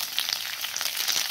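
Chopped capsicum hits onions frying in a pan, giving a brief, steady sizzle with soft crackles.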